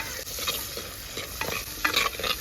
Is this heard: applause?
no